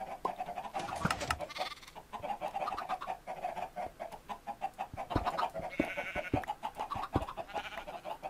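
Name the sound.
baby sheep bleating in Minecraft video game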